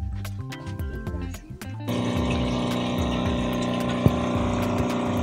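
Water is pumped into a kettle to make mate, heard as a steady, loud mechanical pumping rush with gurgling that starts after a quieter stretch of clatter and runs on evenly.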